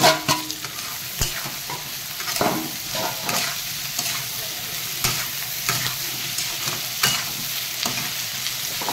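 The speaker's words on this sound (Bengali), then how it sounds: "এই যে আমার ভাজা কুড়িগুলো দিয়ে দেবো মশলার সঙ্গে।" Fried shing fish pieces are stirred into hot, sizzling masala in a pan, producing continuous frying hiss punctuated by repeated scraping strokes of a spatula.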